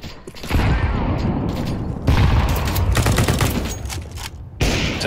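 A grenade bursting amid dense gunfire in Counter Strike 2, with loud continuous shots and blasts through most of the stretch and brief lulls between heavy bursts.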